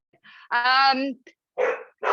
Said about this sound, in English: Sorry, my dog just chimed in.